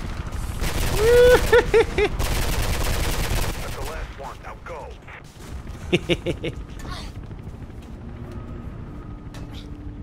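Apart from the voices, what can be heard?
gunfire in video game Mirror's Edge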